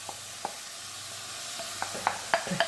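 Lentils being stirred into a sizzling pot for a coconut curry, with a soft steady sizzle beneath scattered light scrapes and clicks of a utensil that grow more frequent toward the end, close and without voices.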